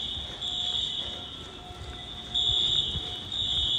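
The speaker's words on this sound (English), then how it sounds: "This is the second fire alarm we've had in 2 days." An apartment building fire alarm sounds a steady, piercing high electronic tone with a faint second tone above it, heard from nearby over low rain-like background noise.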